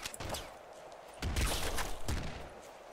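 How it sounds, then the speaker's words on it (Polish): Gunshots in Nuclear Throne come in quick bursts of several sharp, crackling shots with a thumping low end, fairly near and repeating in uneven clusters, with no talk. "Tylko słuchać moje strzały"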